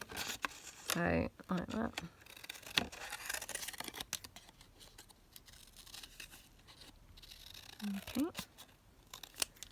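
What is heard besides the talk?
scissors cutting out pieces from a postcard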